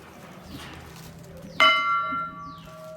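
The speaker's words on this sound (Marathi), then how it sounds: "अशी मोठी घंटा इथे बघायला मिळते" A large temple bell is struck once, ringing out with a long, shimmering resonance that slowly fades over a quiet background murmur, at the Shri Dev Rameshwar annual fair in Girye, Vijaydurg.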